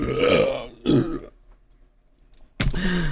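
A loud, drawn-out burp rumbles up from a man's throat in two heavy surges, followed by a quiet pause before a second belch erupts close to the mic.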